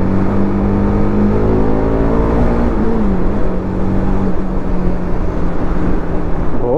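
Apache RR310 motorcycle engine, recovering from a starting problem, revs loud and close, its pitch climbing and sliding in steady sweeps over a constant low engine drone with no voices.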